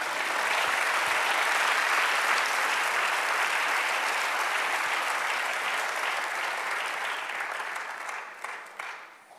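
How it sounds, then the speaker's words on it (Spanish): A church congregation claps in praise during a Spanish-language sermon, dense steady applause held for several seconds before thinning into a few scattered claps at the end. "Dale un aplauso al Señor"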